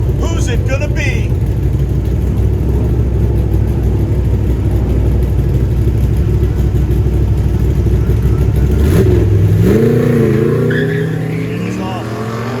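Corvette racing an autocross course at a car show, its engine roaring loud and steady before a sharp shift to a rising rev, with a voice talking throughout.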